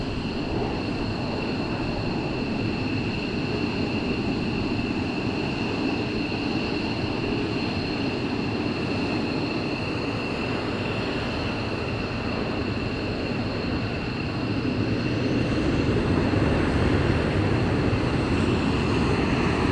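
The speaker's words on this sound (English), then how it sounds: "I hope you can hear me over the jet noise." Steady, loud roar of F-15 fighter jet engines on the ground at RAF Lakenheath, a dense continuous rumble with whining tones on top that swells slightly louder near the end.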